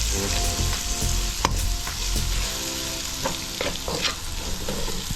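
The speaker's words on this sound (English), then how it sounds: "So everything is mixed in" Curry lamb with vegetables sizzling in a pot while a spoon stirs it, giving a few scrapes and knocks over a continuous close frying hiss, with no talking.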